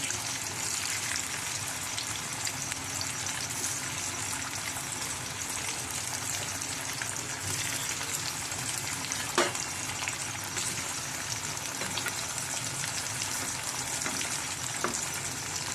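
Steady close sizzling of boiled potatoes rubbed with salt and turmeric frying in oil, a constant crackling hiss with occasional soft pops and a utensil tap.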